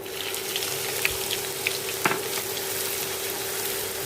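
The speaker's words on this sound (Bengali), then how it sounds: "তো মশলাগুলো হালকা ভাজা হয়ে গেলে এর মধ্যে এখন দিয়ে দিব পেঁয়াজ কুচি" Chopped onion fries with lightly toasted whole spices in oil for a pigeon bhuna: a steady, close sizzle with a few soft clinks and stirring taps, no voices.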